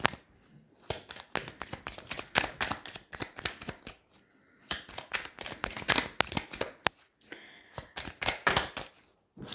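A deck of oracle cards is shuffled close up, with rapid riffling bursts and soft slaps coming in several quick runs separated by short pauses.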